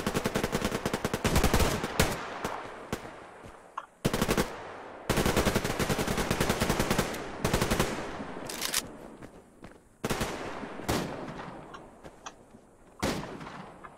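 Rapid automatic gunfire in the online shooter Survarium comes in long bursts with short gaps, loud and close, with scattered single shots and no talk.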